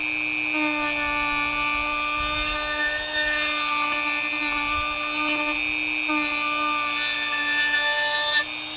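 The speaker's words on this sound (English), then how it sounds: "We're going to start with our Dremel on a light sanding bit" A Dremel rotary tool fitted with a light sanding bit whines steadily as it feathers dinged, scraped edges of a damaged Garmin Force trolling-motor propeller, a continuous high tonal drone running the whole time with slight dips.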